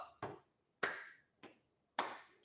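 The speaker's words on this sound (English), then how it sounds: "So I'll go tap, clap, go, and go." Four sharp percussive hits in a slow tap-clap rhythm from a single person leading a group clapping game, alternating lighter taps with fuller claps, close and dry with silence between each hit.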